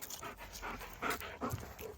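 A three-year-old German Shepherd pants in quick, breathy bursts close by, the rhythmic huffs rising and falling with no talking over them.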